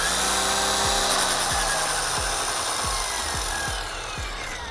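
A Ryobi 40V HP power head spins an edger attachment with a steady high whine, a rhythmic scraping tick repeating about every half second, close and loud.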